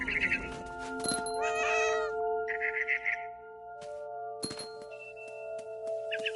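A cat meows repeatedly in What Remains of Edith Finch, several close, drawn-out calls and shorter mews spaced across the moment, over a quiet steady background hum.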